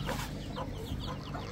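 Chicks clucking and peeping in a backyard poultry pen, a few small close chirps over a steady low background murmur.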